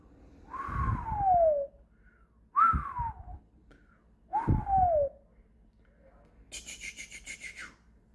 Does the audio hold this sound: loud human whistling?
yes